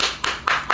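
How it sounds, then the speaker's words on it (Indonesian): Applause from a small group during a live cosmetics endorsement stream, with short bursts of hand clapping in quick succession, close and fairly loud. "Tepuk tangan untuk owner Gia Ratu Manado yang paling menduhu itu"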